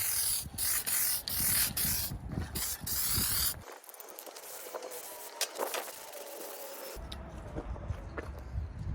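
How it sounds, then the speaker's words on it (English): An aerosol spray can lays a coat of primer on a sanded part from a John Deere LA165 lawn tractor mower, hissing in bursts at close range, then a quieter stretch of handling noises before the spraying resumes. "I'm going to give her a coat of primer"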